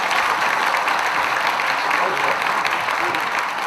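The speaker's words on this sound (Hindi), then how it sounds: "सबसे अनुरोध है एक बार खुले दिल से इनके लिए ताली बजाएं।" Audience applause for the performers of a Maithili stage play at Shriram Centre, Delhi: dense, steady clapping from a full theatre crowd, loud and continuous throughout.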